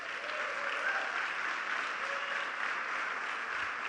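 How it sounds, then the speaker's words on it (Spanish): A church congregation claps together in a long, even round of applause, heard from a little distance and fairly soft, with no voices over it. "¿Cuántos le damos un fuerte aplauso al Señor"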